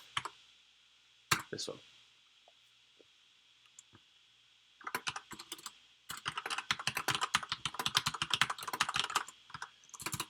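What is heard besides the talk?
typing on a computer keyboard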